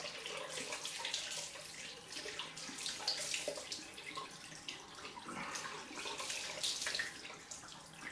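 A tap runs steadily for a cold rinse after a wet shave, a faint, continuous splashing stream into a sink.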